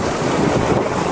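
A sailboat under spinnaker and mainsail glides through light wind, with a soft continuous rush of water along the hull and wind noise buffeting the microphone, no voices.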